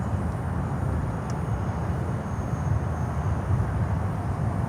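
Steady low broadband roar of an American Airlines Boeing 737-800 arriving at Miami airport, continuous and fairly loud throughout with no voices.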